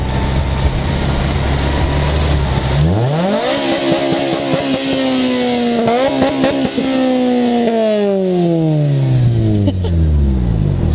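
A Honda Civic fitted with headers idles low, then revs up hard and climbs through several gear changes, each shift marked by a brief dip before the engine note rises again, loud and close.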